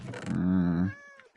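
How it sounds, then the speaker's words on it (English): A black cat in a video game gives a single clear, drawn-out meow, close and alone, fading out after about a second. "Why is there a random black cat tied up here?"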